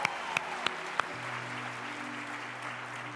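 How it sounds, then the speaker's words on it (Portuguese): A church congregation gives a brief round of applause at a Lagoinha Canoas evening service, with a few sharp claps at the start before a soft, even wash of clapping and room murmur continues. "E aplaude mais uma vez o nome do Senhor"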